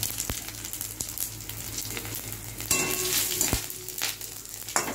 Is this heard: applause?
no